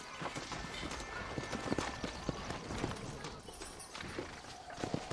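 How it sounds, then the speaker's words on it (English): A horse gallops in Red Dead Redemption with rapid, rhythmic clip-clop hoofbeats over a steady bed of ambient noise, moderately close, as a voice briefly calls out above it. "Arre, caballo, arre."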